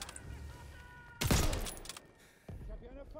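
Gunfire in the Call of Duty WW2 campaign mission at Normandy, a loud sharp blast followed after a pause by another shot, over a quieter battlefield background.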